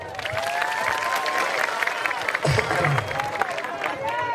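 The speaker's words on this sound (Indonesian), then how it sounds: "Tepuk tangan dulu dong." Applause and cheering from a crowd at an Islamic sermon by a preacher, a steady dense wash of clapping with a voice speaking over it throughout.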